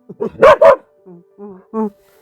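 A dog barks loudly at close range, two sharp barks in quick succession, followed by a few softer, tonal whining yelps after short pauses.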